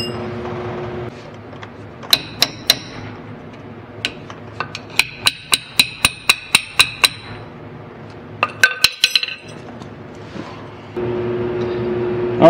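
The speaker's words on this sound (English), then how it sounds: "I need to get the bottom out and have to get a shorter punch because I'm too close to the floor to swing a hammer" Hammer blows drive a punch against the king pin plug on a 1948 Chevy's front steering, a run of sharp, ringing metallic strikes in close succession, a few quick taps after them, amid low garage hum.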